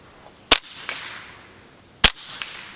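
Two sharp, loud shots from a Performance Center TCR .22 pistol fitted with a Rebel Silencers SOS-22 suppressor, fired outdoors into rock and dirt, each a crisp crack followed by a quick ricochet-like tick, spaced about a second and a half apart.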